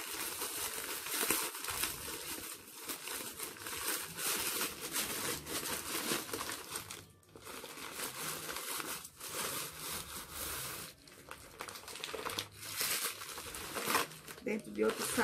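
Plastic bags crinkle and rustle steadily as a package is unwrapped by hand, a close, busy crackling with brief pauses and occasional tearing-like bursts.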